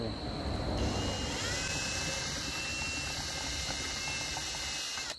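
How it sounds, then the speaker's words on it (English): A power drill whines steadily at high pitch, drilling a small hole to mount a boat's transducer bar, running continuously with a constant motor hum, close by. "That's a drill. Drill dig a little hole for it."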